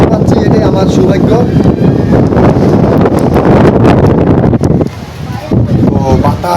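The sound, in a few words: strong storm wind blowing into the microphone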